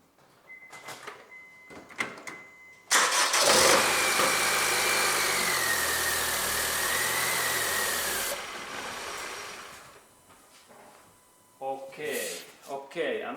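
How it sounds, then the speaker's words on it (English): A car engine with a cranks-but-no-start fault, now repaired, cranks and catches with a sudden loud roar, then settles into a steady running hum before cutting off, with some voices and handling noises around it. "now I go to start my car, that we can hear that how this engine really starts."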